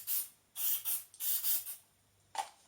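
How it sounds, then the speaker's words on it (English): Aerosol solvent sprays in about five short, close hissing bursts onto greasy, swarf-packed parts of a Harrison vertical/horizontal milling machine being cleaned, with brief quiet gaps between bursts. "I'm giving it a spray with some aerosol solvent as well."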